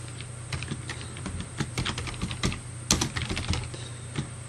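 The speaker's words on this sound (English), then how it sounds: "I can type in some code" Someone types code on a computer keyboard, producing steady, close, crisp keystrokes in uneven bursts with no talking.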